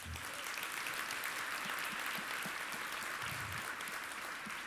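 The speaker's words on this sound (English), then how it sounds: "Give them a round of applause." At a conference on ending homelessness in Canada, a crowd gives a round of applause, a steady, even wash of many hands clapping that sounds fairly quiet and distant throughout.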